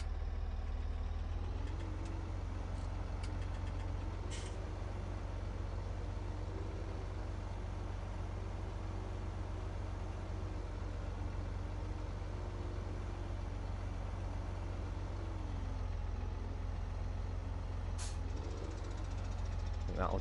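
A tractor engine in Farming Simulator 2017 drones steadily at low idle for the whole stretch, with a slight wavering rumble and a couple of brief mechanical hisses.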